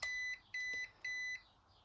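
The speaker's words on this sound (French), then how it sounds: "on veut entendre qu'un seul bip" An Arrma Grom RC car's electronic speed controller gives three short, identical electronic beeps, evenly spaced about half a second apart, clear and close with nothing else around them.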